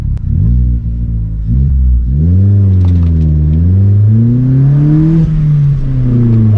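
Engine of a standard Vauxhall Corsa with an automatic gearbox, loud and close from inside the car as it accelerates, pitch rising steadily, then dropping at gear changes before climbing again.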